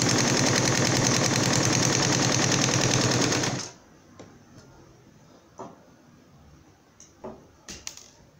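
A sewing machine stitches fabric while sewing a fabric bag holder, whirring loud and close with a fast, steady rhythm for about three and a half seconds, then stopping, followed by a few faint handling clicks.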